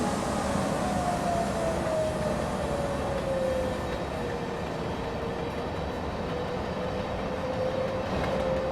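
An ÖBB 1044 electric locomotive rolls along the Three Country Corner route in Train Simulator 2016, giving a steady rumbling wheel-on-rail roar with a motor whine that slowly falls and then levels off, and no one talks.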